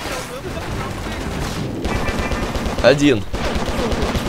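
Rapid bursts of gunfire in the video game Stranglehold crackle over background game noise in the Kowloon slums level, with someone speaking briefly partway through.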